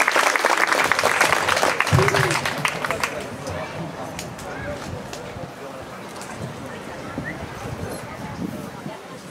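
An audience applauds after a performance of a traditional Korean song at a cultural event. The clapping is loud and dense at first, then thins and fades over several seconds, with a voice speaking over it.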